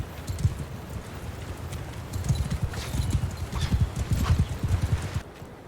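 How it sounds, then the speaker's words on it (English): Horse archers gallop in Mount & Blade II: Bannerlord, hooves drumming in a fast, continuous clatter that builds louder before cutting off, with a faint whinny. "Oh, they're horse archers."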